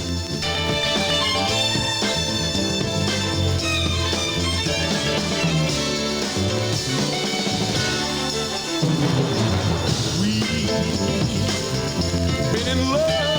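A Northern Soul record playing steadily at full volume, with a dense band arrangement and vocals running throughout with no talk over it.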